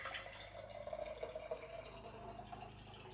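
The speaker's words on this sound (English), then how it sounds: "I can pour all of this into here and not have any left over in this vase." Water is poured from a container into a vase in a small science demonstration, a soft, faint stream with light dripping and trickling that tapers at the end.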